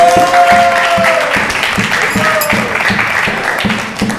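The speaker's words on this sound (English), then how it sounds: "So please give her a big round of applause" Devotees at an evening arti gathering applaud, a close, full wash of clapping that holds steady and then eases slightly toward the end, with a tonal ringing sound over the start.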